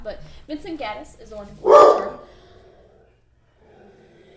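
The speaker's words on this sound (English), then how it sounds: "And that's my dog." A dog barks once loudly nearby right after someone speaks, the bark cutting in over the end of his talk before the room goes quiet.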